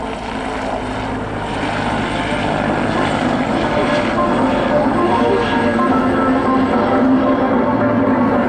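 A CH-146 Griffon helicopter of 400 Squadron, Borden, at the 2011 Great Lakes International Airshow gives a loud, steady rotor chop and turbine roar, continuous and fairly near.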